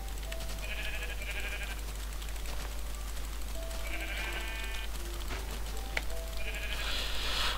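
Sheep in the video game Minecraft bleat in several short wavering calls spread across the stretch, over a constant low hum, with no talking.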